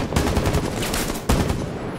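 Rapid automatic gunfire in Rainbow Six Siege, a dense, loud burst of shots lasting about two seconds with a brief break and sharp restart midway.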